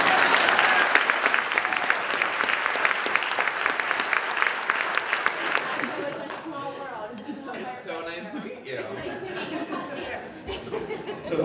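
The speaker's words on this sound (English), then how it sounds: "Can she get a round of applause?" An audience at a museum Q&A applauds a firefighter of 13 years, loud dense clapping for about six seconds that then fades into scattered chatter and light laughter from the crowd.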